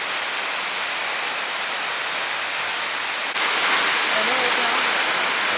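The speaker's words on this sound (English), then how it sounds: "And there's the falls." Snoqualmie Falls roars as a dense, steady wash of falling water heard from a distance, growing slightly louder partway through, with faint voices in the background.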